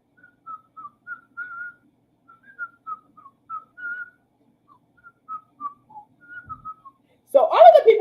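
Someone whistles a song melody alone in a quiet room: a thin, clear tune of many short notes and a few held ones, followed at the end by a burst of a person talking.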